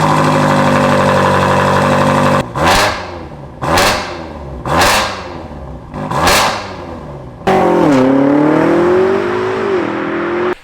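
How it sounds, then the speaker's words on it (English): A BMW M5 Competition fitted with MTC downpipes idles loudly, then gets four sharp throttle blips, each flaring and fading, before a long rising rev and an abrupt cut, close up and without talk. "the MTC Dowpipes, and they sound absolutely incredible"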